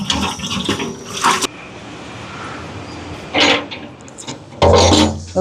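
Water splashes and scrubbing rattle in a cooking pot being rinsed before a chicken biryani, close and loud, arriving in three separate bursts with quieter pauses between them.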